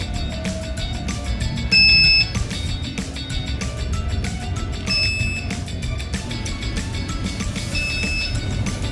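An RFID access system buzzer gives a single longer beep of about 1.5 seconds, signalling access granted, standing out moderately above a constant background hum and faint intermittent tones.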